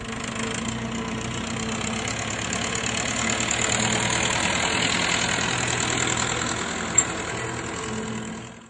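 A tractor engine runs steadily at a constant drone while it pulls ropes tied to boards to empty a farm trailer, loud and near, with one sharp knock near the end.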